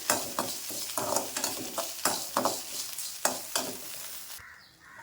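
Spices and rock salt dry roasting in a pan for rasam powder, stirred with quick repeated scraping strokes over a crackling sizzle, close and fairly quiet, ending in a brief lull.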